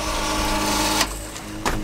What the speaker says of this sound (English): Guys, working pump and working wash machine,